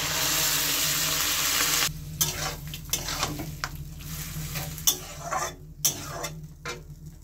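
Boiled mung dal is tipped into a pan of bitter gourd and stirred. A steady sizzle fills the first two seconds, then gives way to irregular scraping and clacking of the spoon against the pan, close and moderately loud.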